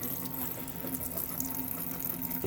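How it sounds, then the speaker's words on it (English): Tap water running steadily after a supply interruption, with air being cleared from the pipes; a continuous close hiss and rush with a faint hum underneath, no talking. "so that's why there's water coming through"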